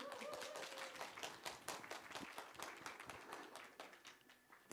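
Audience at a book festival in Wonju clapping for a citizen author, a quiet burst of individual hand claps that starts strong and gradually thins out.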